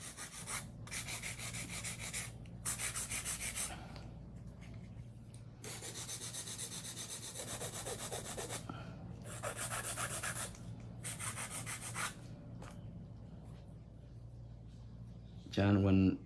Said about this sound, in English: I'm gonna go through and hand file in a little bit